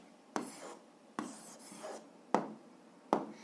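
A pen writes an algebra answer on paper, making four short, close scratchy strokes spaced about a second apart, each a crisp onset that quickly fades, with no talking.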